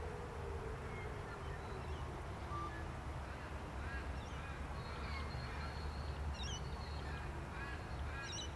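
Ducks quack at a small park pond beside a cricket oval, short nasal calls coming and going at a moderate distance over a steady outdoor background hum, with other birds faintly mixed in.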